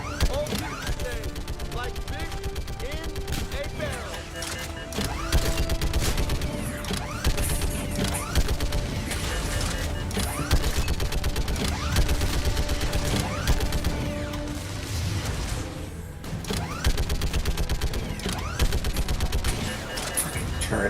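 Turret gunfire in Mass Effect 3 rattles in steady bursts beneath a dense mix of game sounds and mechanical clatter, running loud for most of the stretch while people talk over it.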